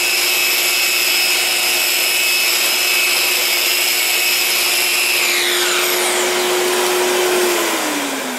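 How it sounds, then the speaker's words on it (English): A shop vacuum used as dust extraction for a Festool Rotex RO 150 eccentric sander roars loud and steady with a high whine, then its pitch slides down as the motor spins down near the end. "The vacuum is going."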